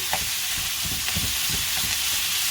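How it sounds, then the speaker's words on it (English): Ground beef and onion fry in a pan over medium heat, giving a steady, close sizzle broken by soft scrapes and clacks of stirring. "we're just gonna pour the ground beef into the pan and fry the meat together with the onion"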